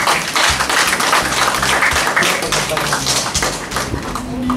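An audience at a Philippine marketing event breaks into steady, dense applause that fills the room from start to finish.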